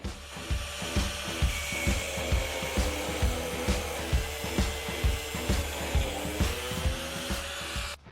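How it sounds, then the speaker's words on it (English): A 1/2 inch threaded steel rod being cut, a steady grinding whine with rhythmic pulsing strokes about twice a second, close and continuous throughout. "Now I'm going to take this 1/2 inch threaded rod and cut it to 16 centimeters in length."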